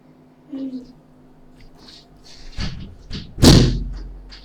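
A door slams shut with a sharp, loud thud near the end, after quieter knocks and handling sounds, with a voice speaking briefly earlier.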